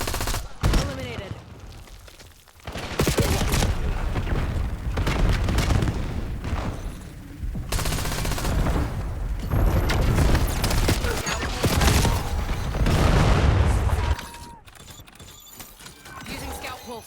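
Call of Duty Black Ops 7 multiplayer battle with a frag grenade blast amid sustained loud gunfire and bursts of machine-gun fire, with game voice callouts mixed in.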